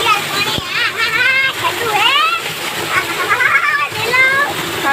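Water flows and splashes into a deep tank, a steady wet rush heard beneath a voice and other talking that continue through most of the moment.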